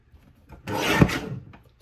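A paper trimmer slicing a strip of cardstock for handmade cards, a single close rasping scrape lasting under a second, then quiet.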